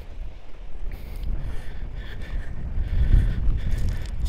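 A northerly wind gusts across choppy water, a low rumbling buffet against the microphone that swells and eases, growing stronger toward the end.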